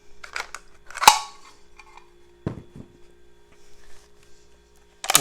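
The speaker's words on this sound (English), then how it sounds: "Remove the magazine." Magazine being removed from a handgun: close, sharp metallic clicks and clacks spaced irregularly, with a louder snap early on and another at the end, with no voices.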